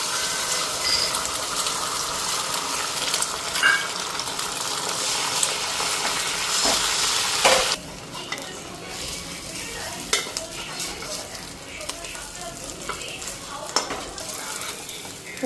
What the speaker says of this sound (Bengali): তো এদিকে কড়াইতে তেল দিলাম, গরমও হয়ে গেছে। ডিমটা দিয়ে দিই।